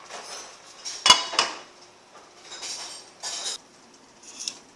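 A metal lid sets onto a pot of baked rice pudding with a sharp clink, followed by a second knock and a few softer scrapes and rattles, close and quiet with no talk.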